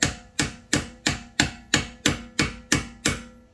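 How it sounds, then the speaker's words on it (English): A hammer tapping on a 2011 Toyota Sienna CV axle: ten evenly spaced metallic strikes, close and moderately loud, each ringing briefly before the next. "we don't need to hammer this too hard"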